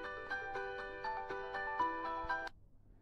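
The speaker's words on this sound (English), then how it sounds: "Ignore that. That was a phone call." A phone ringtone plays nearby, a repeating bright electronic melody ticking along in a steady pattern for a few seconds before cutting off abruptly, with faint room noise after.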